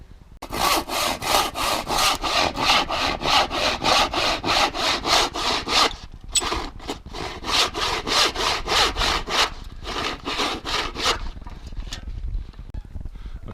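A hand saw cuts two parallel lines about halfway into a piece of wood, giving steady rhythmic back-and-forth rasping strokes, close and clear, with a short pause between cuts.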